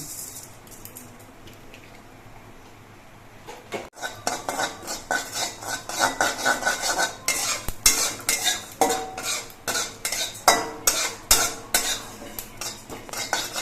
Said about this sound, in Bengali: আমি অল্প করে জিরে ভেজে নিচ্ছি